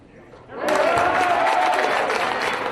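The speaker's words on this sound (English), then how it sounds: "the Northrop crowd thrilled to see a free throw go in" Basketball crowd in a high school gym breaks into loud applause and cheering after a made free throw, a sustained roar that swells suddenly and holds steady to the end.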